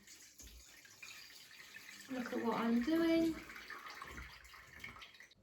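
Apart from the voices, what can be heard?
water draining from boiled sweet potatoes through a colander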